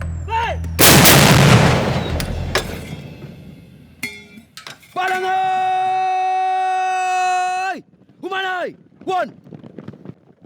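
Loud artillery fire pounding militant strongholds in the Philippines, a heavy blast followed by sharp reports and a long, steady wailing civil defense siren that rises and falls in short bursts near the end.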